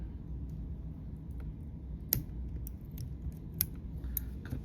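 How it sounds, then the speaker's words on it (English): Small scissors snip thread while tying a sparkle minnow fly on a hook: a few sharp, faint clicks spaced over a quiet background, with no talking. "Come in with our scissors."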